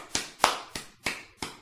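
Sharp, crisp hand claps ring out one after another at an even pace, five distinct claps standing alone with no voices.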